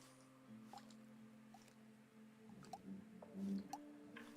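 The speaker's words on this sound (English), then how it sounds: "You just got atmospherics, like drip, drip." In the video game Cave Crave, cave water drips in a quiet ambient soundscape, soft scattered plinks over a low steady hum and faint ambient music, with no one speaking.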